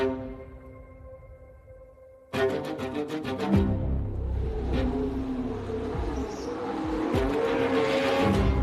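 A TGR Haas F1 race car runs on the track at Silverstone with a loud, high-pitched engine note. It surges through rapid gear changes and swells as the car passes close by, with no voices.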